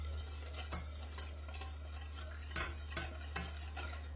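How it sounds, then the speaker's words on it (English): Milk, cream and vanilla whisked slowly into chocolate pudding mix in a small pot on the stove, faint rhythmic whisk taps and scrapes over a low steady hum, no talking. "Now we're going to whisk this slowly to let it all in."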